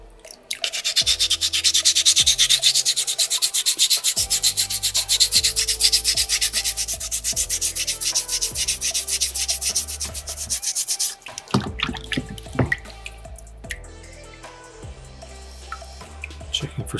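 Sandpaper rubs steadily over a small soapstone butterfly carving, a close, dense rasping that runs continuously for about eleven seconds, then breaks into shorter, intermittent strokes with small taps and handling noises.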